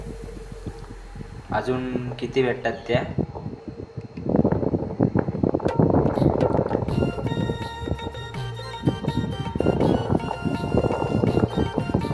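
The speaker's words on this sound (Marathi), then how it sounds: "वाऱ्याचा आवाज पण भरपूर आहे" Strong wind buffets the microphone during eel fishing outdoors, a loud continuous roar and rumble that rises and falls throughout, with people speaking over it.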